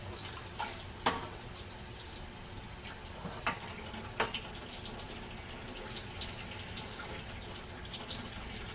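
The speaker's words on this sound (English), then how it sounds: "So I'm going to get some water out of the Vesta drain tube." Water from the drain tube of a Vesta H2 water ionizer flows as a steady faint splashing stream, with a few soft drips and clicks and no voices.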